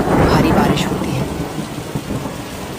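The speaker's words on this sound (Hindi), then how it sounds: "अचानक आसमान पर काले बादल छा जाते हैं, बिजली कड़कती है, भारी बारिश होती है।" A thunderstorm with heavy rain: a loud, rolling rumble of thunder that fades slowly under a steady, dense rush of rainfall, with no talk.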